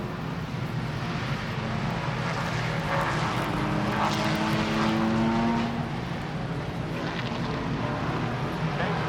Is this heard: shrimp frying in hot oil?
no